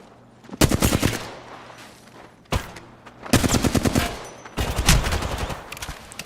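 Automatic weapon fire in the video game Apex Legends: several loud, rapid bursts of shots separated by short pauses, with a sharp single crack between them, emptying a magazine.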